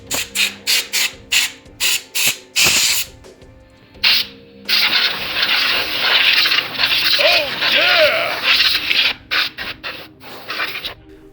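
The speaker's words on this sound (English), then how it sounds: "Now, let's blow all that dust out of your PC." Compressed air blasts dust out of a PC: a string of short, loud hissing bursts, then a longer sustained spray with faint rattling, more quick bursts at the end.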